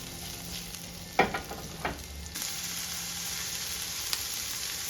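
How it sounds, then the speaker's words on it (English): Onions being sautéed in avocado oil in a pan give off a steady low sizzle, with a few sharp clacks and scrapes of stirring partway through; no voices. "Now I'm adding my onions and sauteing it."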